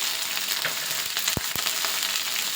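Chopped garlic and curry leaves fry in hot oil in a pan, a steady close sizzle with two sharp spatter pops near the middle.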